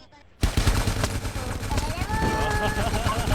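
Gunfire in the video game GTA San Andreas Multiplayer erupts suddenly after a quiet moment, with rapid repeated shots and dense crackling bursts continuing loudly while voices shout over it.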